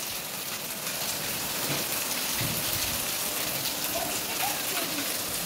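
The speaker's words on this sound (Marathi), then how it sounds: "बाहेर काय की पाऊस पडत आहे" Steady rain falls outside a home, a continuous hiss of drops across the whole stretch, with faint voices in the background.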